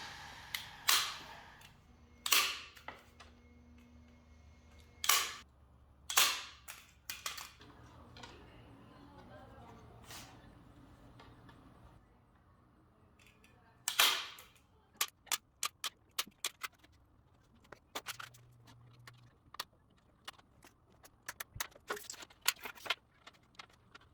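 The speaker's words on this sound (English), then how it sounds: "I'm just using a manual staple gun to staple it into the frames." A manual staple gun drives staples into wooden frames while a pet cage is built. Sharp, loud snapping clacks come singly and in quick clusters, with quieter handling noise between them.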